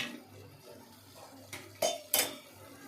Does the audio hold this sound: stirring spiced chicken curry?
yes